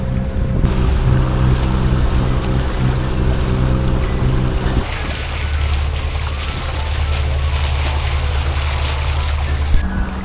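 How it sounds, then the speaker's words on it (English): Sailboat motoring across a glassy calm sea with no other boats nearby, a steady droning engine hum under rushing water and wind noise, with a brief change in tone partway through. "if you're going to be motoring, it might as well be absolutely glassy"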